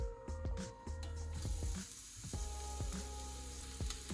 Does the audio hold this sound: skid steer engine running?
no